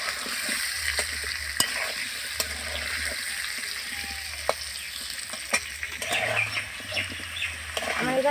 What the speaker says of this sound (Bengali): আমি এই আলুটাকে লাল লাল করে ভেজে নেব।